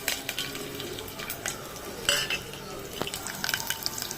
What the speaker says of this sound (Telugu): బాగా కొంచెం ఫ్రై చేసుకోవాలండి, ఎర్రగా రావాలండి.